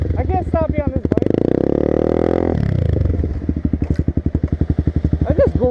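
A stunt motorcycle with a spongy front brake and no bite revs, then engine pulses chug down as the bike slows to a stop, loud and close, with a voice grunting over the start.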